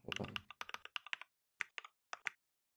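A mechanical keyboard with Cherry Red silent switches is typed on up close with soft, muted clacks, first in a quick run and then in scattered pairs of keystrokes separated by short pauses.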